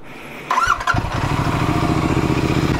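A Royal Enfield GT 650 motorcycle fitted with a BMC performance air filter and NGK spark plugs: a short starter whir, then the twin-cylinder engine catches and settles into a loud, close, steady throbbing idle.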